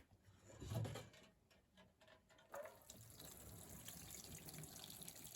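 Water pours from a watering can onto indoor tomato plants, a faint trickling splash in short bursts with quiet gaps between.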